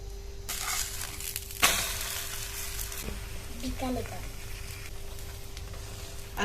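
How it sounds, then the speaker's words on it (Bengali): Paratha sizzling in oil on a pan, a steady soft frying hiss with a brief sharper crackle as the dough goes in, and quiet talk over it. "এবার পরোটা দিয়ে দেবো, ওপর দিয়ে তেল দিয়ে দেবো।"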